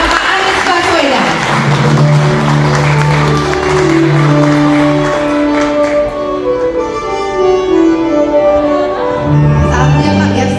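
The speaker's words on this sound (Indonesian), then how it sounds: "Kita tepuk tangan" An audience at a discussion forum applauds as a speaker is welcomed onto the stage, a steady wash of clapping beneath loud talk from an emcee with background music.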